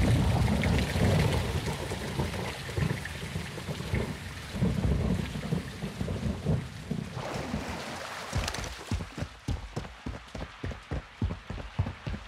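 Heavy rain pours steadily with deep rolling thunder in a Call of Duty: Modern Warfare II scene, a dense wash of rain giving way to a series of rhythmic low impacts near the end.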